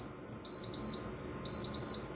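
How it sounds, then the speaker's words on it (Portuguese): An induction cooktop alarm, a Midea FreeZone four-burner, beeps in two paired bursts, each pair of short, high, clean tones separated by a brief pause, close and clear. "Esse é o som do alarme."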